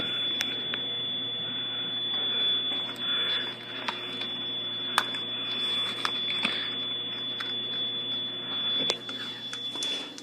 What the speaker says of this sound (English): Actually, the fire alarm, the dialer is in trouble mode